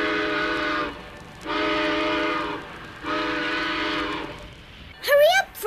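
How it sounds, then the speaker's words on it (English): A train whistle sounds three long blasts in a row, followed by a short burst of higher warbling tones. "The train is pulling out."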